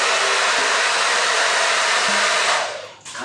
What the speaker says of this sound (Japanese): なんでドライヤー待ちでトークしなきゃいけないの？